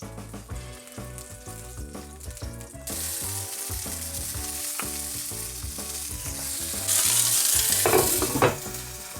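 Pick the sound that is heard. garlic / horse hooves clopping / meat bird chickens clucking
garlic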